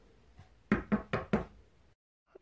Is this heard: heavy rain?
no